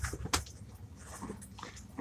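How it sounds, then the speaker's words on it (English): A pet dog whimpers and whines in a room before a live stream begins, with short high cries and some snuffling at moderate volume, with no talk over it. "There's my doggy."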